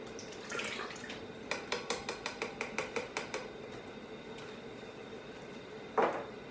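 Canned tomatoes go into a deluxe cooking blender with one short, wet plop near the end, after a run of light, regular metallic ticks.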